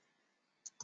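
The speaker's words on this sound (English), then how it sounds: "So let me type again." Two sharp keyboard clicks land close together near the end of a quiet stretch, a brief pair of keystrokes typed on a computer keyboard.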